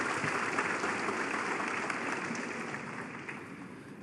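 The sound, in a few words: audience applause at snooker match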